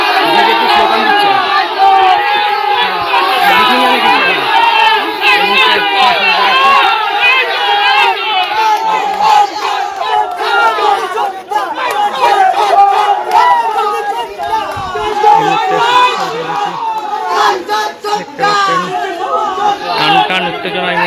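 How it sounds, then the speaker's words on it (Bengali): A large crowd of BJP workers outside a vote-counting centre in Arambagh chants 'Jai Shri Ram' slogans, a loud, continuous wall of massed shouting and chatter that goes on throughout without pause. "এই মুহূর্তে বিজেপির কর্মীরা এখানে জয় জয় শ্রীরাম স্লোগান দিচ্ছে।"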